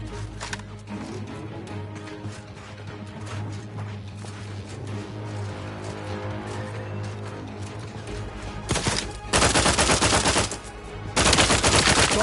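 Gunfire from The Outer Worlds 2, with a steady din of game sound under it, then loud sustained bursts of rapid shots near the end, close and dominant.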